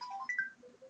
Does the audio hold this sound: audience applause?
no